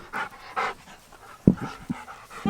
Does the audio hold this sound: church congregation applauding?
no